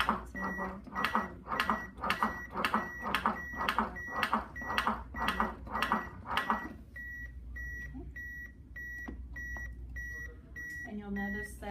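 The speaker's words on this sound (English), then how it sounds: "And you'll notice that it's beeping at a certain rate. That's to help you if you have difficulty keeping a rhythm." A CPR training manikin or feedback device emits a steady train of short, evenly spaced electronic beeps pacing chest compressions, continuing alone after a voice counting along over the first half fades out.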